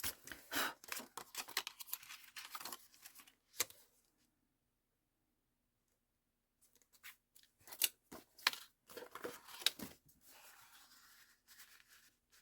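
Paper being cut with scissors while making gelli print pockets, a run of close, crisp snips and rustles, then a few seconds of quiet before more cutting and paper handling resume.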